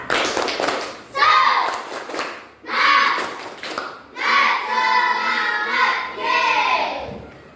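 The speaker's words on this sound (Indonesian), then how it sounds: "Tepuk semangat" Children perform a rhythmic spirit clap in a classroom coaching session, chanting together in bursts with patterned claps mixed under their young voices.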